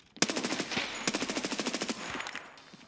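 A burst of rapid automatic gunfire from Escape From Tarkov, about twenty evenly spaced shots in a quick rhythm, fairly close, tailing off into a faint echo.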